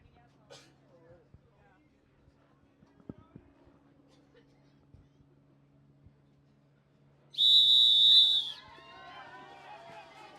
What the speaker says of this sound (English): anytime inside the next 15 seconds on a whistle